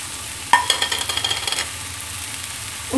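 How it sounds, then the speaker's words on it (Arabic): A spoon stirs a spiced filling with olives in a pan, making a few soft scraping strokes over a faint sizzle. The strokes fade to quiet, and a brief clink follows at the end. "ونبقاو نحركو."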